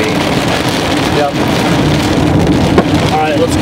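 Heavy rain pounds a car during a tornado storm near Walters, Oklahoma, as a dense, loud, steady roar with no break across the whole stretch.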